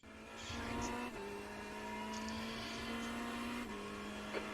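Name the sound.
Ferrari 488 GT3 Evo racing at Le Mans in iRacing game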